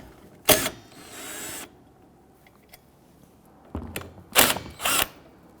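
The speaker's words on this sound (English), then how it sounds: "Using a 16mm socket, go ahead and remove the nuts." A 16mm socket wrench loosens the wiper arm nuts on a Dodge Charger, giving a few short mechanical ratcheting bursts close by, separated by quiet gaps.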